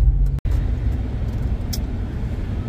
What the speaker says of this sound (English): Here comes the first fire truck.